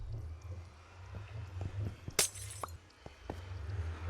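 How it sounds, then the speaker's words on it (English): A glass block shatters in Minecraft Bedrock Edition, one crisp breaking crash in the middle followed by a few small clinks, over a low steady background hum and no speech. "And break this glass."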